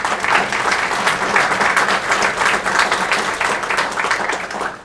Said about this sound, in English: So a round of applause for Stephanie and Andrew.